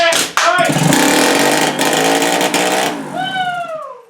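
Motorcycle with a loose exhaust and clutch slip, engine revving loudly and raggedly up close in a shop, then falling with whining pitch sweeps; voices talk over it.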